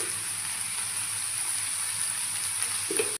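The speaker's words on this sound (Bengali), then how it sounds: "গাজর কুচি, বিনস, ওগুলো ভালো করে ভেজে নিতে হবে" Chopped carrots and beans sizzle in a frying pan with a constant close hiss, interrupted by a brief clink of stirring near the end, with no voices.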